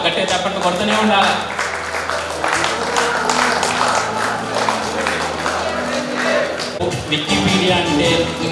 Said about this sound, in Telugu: ఒకసారి గట్టిగా మళ్ళొకసారి చప్పట్లతో చప్పట్లు కొట్టవలసిందిగా మనవి చేస్తున్నాము